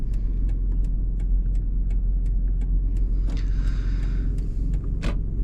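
A 2013 Toyota 4Runner creeping along slowly, its low engine rumble steady and close, with light clicks and a brief higher whir near the end.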